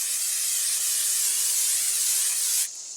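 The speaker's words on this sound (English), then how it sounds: "I'm going to spray my little grilling basket" Non-stick cooking spray hisses steadily onto a small grilling basket in a kitchen, a close, continuous aerosol spray for almost three seconds that cuts off abruptly, with no talking.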